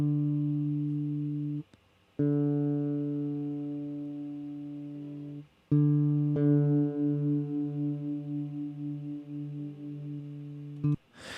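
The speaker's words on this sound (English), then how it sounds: "So we see that when we play them together, we have this like wobbling effect, right?" Two slightly out-of-tune guitar notes sounded together, their combined tone beating in a slow wobble that speeds up, heard as several sustained plucks with short gaps, close and fairly quiet, no talk.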